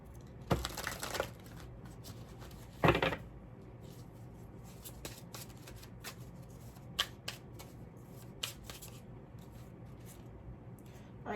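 Oracle cards shuffled by hand in two quick riffling bursts near the start, followed by softer intermittent card handling and light taps, close and quiet.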